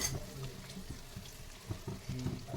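Eggplant with chili powder being stir-fried in a pan over medium heat, a steady soft sizzle with periodic scraping and stirring knocks, close and moderately quiet.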